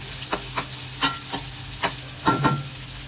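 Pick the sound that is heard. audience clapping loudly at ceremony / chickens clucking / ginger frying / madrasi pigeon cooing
ginger frying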